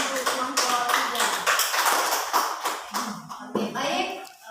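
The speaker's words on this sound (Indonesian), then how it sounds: "tepuk tangan untuk kelompok 3" A classroom group of students claps for group 3 during an Islamic religious studies lesson, a dense patter of hand claps running throughout, with voices talking and calling out over it.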